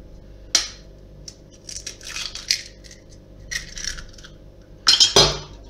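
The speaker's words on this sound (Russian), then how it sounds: "Разбиваем яйца." Three eggs cracked into a bowl for zebra cake batter: sharp shell taps and crunching, with scattered clinks and rustles and a louder crack near the end, close and without talking.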